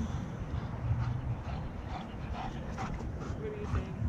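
A white German Shepherd whimpers and yips in short, high whines indoors, close by, mixed with low rumbling household noise and some talk.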